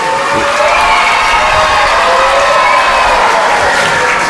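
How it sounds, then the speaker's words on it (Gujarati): A large audience at an Independence Day celebration in Mangrol breaks into loud, continuous applause with crowd cheering, a dense roar of clapping that holds steady throughout. "હું ફરી એકવાર ગર્વના સાથે આપના માટે તાળીઓના જોરદાર નાદની અપેક્ષા રાખું છું"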